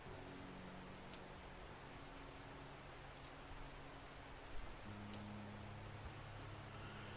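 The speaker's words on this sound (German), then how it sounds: "Jetzt regnet's." Soft, steady rainfall hisses in 7 Days to Die, a faint even wash of drops with low droning tones beneath and no talking.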